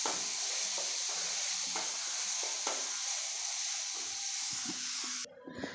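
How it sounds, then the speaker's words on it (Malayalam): Garlic, ginger and chopped tomato sauté in a pan for a tomato fish curry, giving a continuous close sizzle with light stirring taps before the sound drops away sharply near the end. "നമുക്കതിലേക്ക് തക്കാളി അരിഞ്ഞത് ചേർത്ത് കൊടുക്കാം. തക്കാളിയോട് ചേർത്ത് നന്നായിട്ട് നമുക്കൊന്ന് വഴറ്റിയെടുക്കാം."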